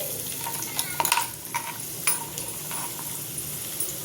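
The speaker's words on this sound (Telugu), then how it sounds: "ఆయిల్ హీట్ అయ్యాక ఇగోండి ఉల్లిపాయ ముక్కలు వేసానండి" Onion pieces frying in hot oil in a pan, a steady low crackle with a few sharper stirring scrapes and clinks near the start and middle, fairly quiet and with no voices.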